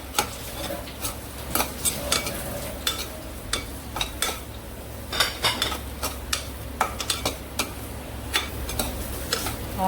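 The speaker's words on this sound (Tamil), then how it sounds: "இஞ்சி பூண்டு விழுது போட்டு கொஞ்சம் வதக்கிட்டு" Ginger garlic paste being sautéed for a cauliflower fry, with repeated sharp spoon clicks and scrapes against the pan in an uneven rhythm over a low, constant frying sizzle.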